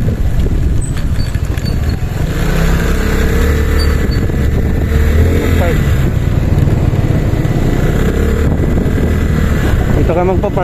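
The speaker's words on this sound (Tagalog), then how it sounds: "Yung motor dito. Ingay ah." A Euro Griffin 180i motorcycle engine runs at night, a loud, steady, close rumble with buffeting wind noise throughout and voices faintly underneath.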